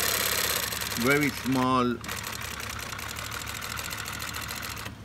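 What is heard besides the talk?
Juki LH-3528A industrial sewing machine sewing with heavy duty thread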